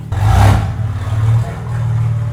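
A BMW G80 M3 with a 4-inch aftermarket exhaust, valves open, starts up close with a loud roar, then settles into a deep, rumbling idle with a throaty exhaust note.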